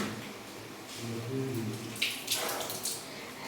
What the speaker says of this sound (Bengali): কাঁটা চামচ হলে হবে, কাঁটা চামচটা ধুয়ে নাও।